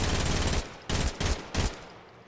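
Compact SMG from Fortnite firing in three short bursts of rapid gunfire, close and loud, separated by brief pauses.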